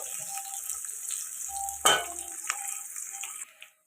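Onions sautéing in a pan for a bitter gourd tamarind curry, a steady soft sizzle with faint stirring scrapes and one sharp clack of a utensil against the pan partway through, close and alone without talk.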